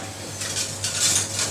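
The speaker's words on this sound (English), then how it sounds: "I'm going to give that a quick stir" A small whisk stirs white chocolate into hot cream in a bowl, a close, soft scraping and swishing with light metallic ticks repeating over a low background hum, with no talking.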